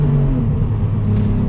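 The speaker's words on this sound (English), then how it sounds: "I like flooring out of this one" A BMW Z4 accelerates hard at full throttle, its engine a loud, close, rising rumble pulling through the gears.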